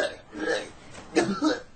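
A man's severe, hacking coughing, voiced by a narrator in a radio reading, comes as a few harsh bursts, close and loud against a quiet background.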